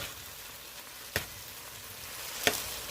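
Food sautéing in a pan with black pepper being stirred in: a quiet, steady sizzle broken by two sharp utensil clicks about a second apart, no talk.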